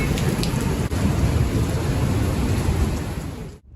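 Heavy rain pours down in a steady, loud wash during a Scottish storm, with deep thunder rumbling underneath throughout before the sound cuts off abruptly.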